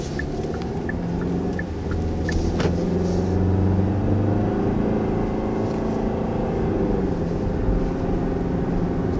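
A 2019 Hyundai Tucson accelerating in sport mode, its engine rumbling low and steady from inside the cabin, building gradually with road noise underneath and a few faint clicks early on.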